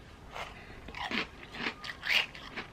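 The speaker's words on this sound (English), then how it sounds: "That crunch with the custard" Crunchy cereal chewed with almost-melted ice cream and custard, a few close crunching bites in an uneven rhythm, soft and intimate, with no talking.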